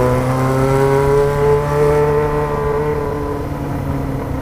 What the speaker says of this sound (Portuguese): Nossa, como tá berrando bonita a XJ